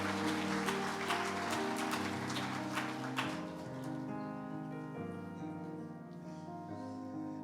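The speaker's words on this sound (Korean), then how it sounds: "뜨겁게 박수로 좀 격려해 주시면 됩니다" A church congregation claps warmly after a baptism at a Korean Sunday service, a dense burst of applause over sustained instrumental music that fades after a few seconds and leaves the music playing alone.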